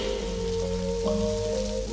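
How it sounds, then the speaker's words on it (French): Rain falls outside a cave in a cartoon, a steady hiss of drops on surfaces under a sustained musical drone, moderate and continuous with no talk. "Ça nous protégera de la pluie."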